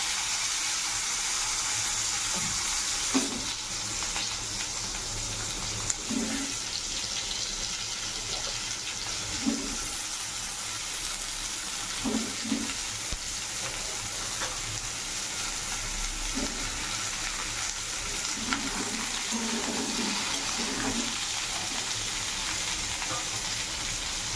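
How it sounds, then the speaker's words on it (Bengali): Vegetables fry in hot oil tempered with dry chilli and black cumin, giving a continuous loud sizzle with repeated soft stirring clinks and scrapes spaced a few seconds apart, and no talking. "শুকনো লঙ্কা আর কালো জিরে ফোড়ন দিয়েছি এবার সব সবজি আমি আস্তে দিয়ে দেবো"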